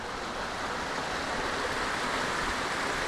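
Creek water runs steadily beneath a small man-made footbridge on a wooded trail, a continuous broadband rush with no pauses, close and fairly loud throughout.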